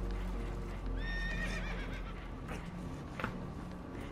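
Spooked horses whinny and neigh in Red Dead Redemption II, a rising, quavering call standing out over a low rumbling background, with a brief sharp knock near the end.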